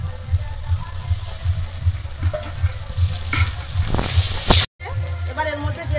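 Ginger paste and spices, including turmeric with softened tomato, fry in a pan for chicken biryani, producing a close, continuous hissing sizzle with light stirring, briefly cut off by a sudden dropout near the end.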